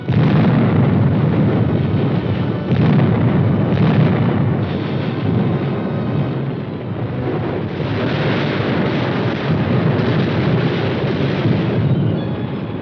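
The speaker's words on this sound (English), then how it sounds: "A platoon leader calls for artillery fire on an enemy strong point which stands in his way." An artillery barrage pounds an enemy strong point, with continuous rumbling blasts and booms rolling one into the next throughout, loud and dense.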